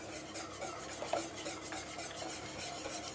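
Creme fraiche being whisked into carrot soup in a pan: quiet, continuous swishing and scraping strokes of a whisk with light metallic taps, steady throughout and free of talk.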